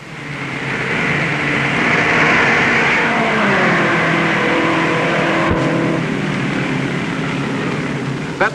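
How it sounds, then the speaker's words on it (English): Race cars at the 1958 Indianapolis 500 roar past at full speed on the main straightaway, a loud, continuous engine howl with shifting pitch as the cars pass close by, with no talk over it. "Bryan and Bettenhausen charge down the main straightaway inches apart."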